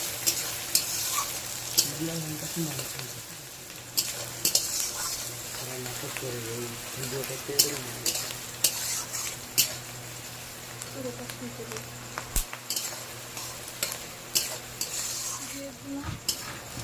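Onion and spices fry in a pan with a constant sizzle while a spatula scrapes and taps in irregular strokes; someone talks intermittently over the cooking.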